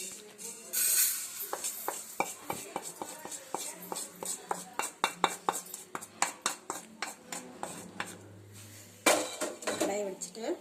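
Roasted healthy snack tipped from a metal kadai into a bowl, giving a run of scraping clinks and rattles of pan against bowl, fairly close, with a brief low hum near the end.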